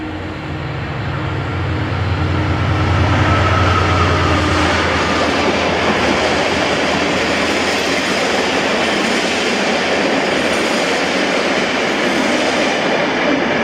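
DRS class 68 locomotive 68018 passes through Holytown on a ScotRail service from Edinburgh. A deep engine rumble builds, then gives way to a loud, sustained roar of rolling wheels and rattling carriages close by.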